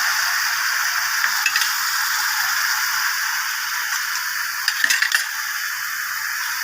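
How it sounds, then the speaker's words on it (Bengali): Spices with Kashmiri chilli being stirred in a pan, a steady soft sizzle throughout with a few faint scraping clicks of the spoon near the start and again toward the end, no voices. "একটু কাশ্মীরি লঙ্কা দিয়ে দিলাম যাতে কালারটা সুন্দর হয়। ভালো করে নেড়ে নিলাম"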